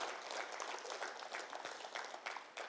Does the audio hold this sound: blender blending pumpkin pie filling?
no